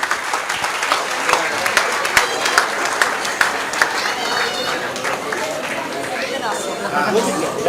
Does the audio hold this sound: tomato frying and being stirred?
no